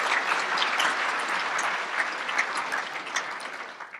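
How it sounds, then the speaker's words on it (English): Audience applause welcoming panelists at a cookstoves summit, a dense steady round of clapping in a hall, moderately loud and fading slightly toward the end. "Please welcome these panelists with a round of applause."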